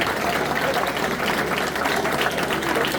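Audience applause at a university inaugural lecture in Calabar, honouring the Vice-Chancellor: a steady, dense wash of many hands clapping throughout, with faint crowd murmur beneath.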